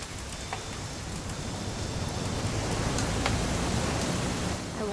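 Steady rain falls in the video game What Remains of Edith Finch as a dense, continuous hiss that fills the scene evenly, with a faint click or two on top.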